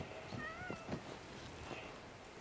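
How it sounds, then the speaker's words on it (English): A cat gives a few faint, short meows over a steady background hiss, somewhat distant and quiet. "Oh, their cat."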